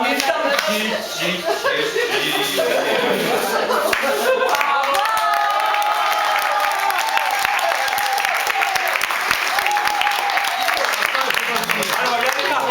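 Audience applause at a public salutation after a performance, a steady dense wash of clapping that holds evenly for the whole stretch, loud and close, with some voices mixed in beneath.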